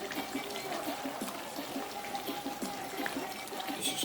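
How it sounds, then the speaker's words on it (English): Hot and spicy curry stew chicken bubbles in a pot, giving a soft, steady stream of small pops and simmering gurgles, fairly faint and close. "This is called bubbling."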